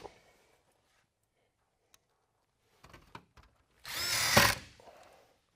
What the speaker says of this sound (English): Put a screw in.